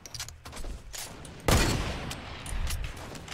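Sharp gunshots crack in an irregular burst in Fortnite, one louder blast standing out, over a low, noisy background of game sounds.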